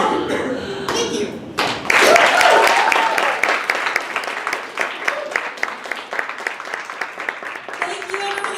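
An audience at a storytelling night applauds with a burst of dense clapping that then thins into scattered claps, while a voice speaks over it.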